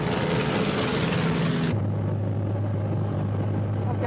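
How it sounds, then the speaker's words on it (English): Rutan VariEze small propeller airplane climbing after takeoff, a loud continuous engine and propeller drone heard close from inside, with wind roar that drops in brightness partway through. "You get to flying speed and the airplane will just lift off"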